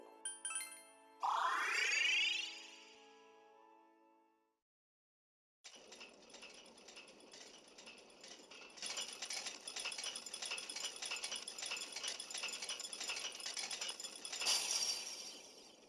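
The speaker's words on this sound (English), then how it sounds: "After the bell rang a moment ago, the lock started rattling." In the game Persona Q: Shadow of the Labyrinth, a chime rings first, then after a short pause a lock rattles in a long run of rapid metallic clatter, steady and close, ending in a louder burst.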